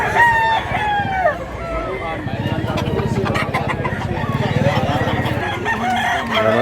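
Rooster crowing at a Cebu chicken market, among white and yellow-legged gamecocks for sale, a long crow rising and falling over steady market chatter and clucking from nearby fowl.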